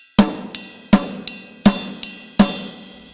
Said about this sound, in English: So a straight 8th note sound like this.